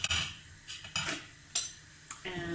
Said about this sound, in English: some hot water, some sugar, which I'm adding now